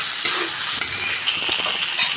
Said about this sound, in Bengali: আলুটা দিয়ে আমরা এভাবে নেড়ে চেড়ে নেব।